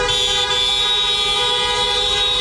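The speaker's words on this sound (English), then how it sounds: "Spurs fans cheering and honking after the franchise won the NBA draft lottery" Car horns honk continuously from Spurs fans celebrating the team's NBA draft lottery win, a sustained loud blare of steady tones with no gaps.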